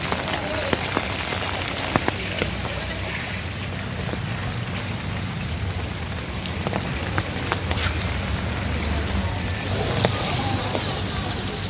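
Steady rain pours across hospital grounds, a dense continuous hiss with scattered drips and splashes close by, unbroken for the whole stretch.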